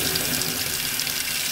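Hot water running steadily from a tap, a loud, even rushing hiss that continues unbroken, with no voices.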